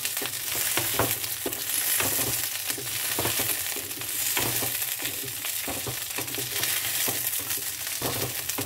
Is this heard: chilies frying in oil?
yes